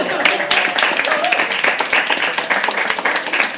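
An open-mic poetry audience breaks into loud, continuous clapping and applause that holds steady throughout, with a voice talking over the ovation.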